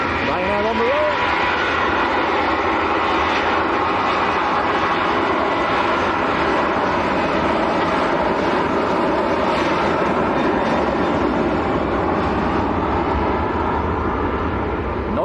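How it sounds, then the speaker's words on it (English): A loud, sustained roar from a Ryanair jet airliner departing Manchester Airport for Paris, steady broadband engine noise filling the whole stretch with no break. "Noisy Ryanair going to Paris."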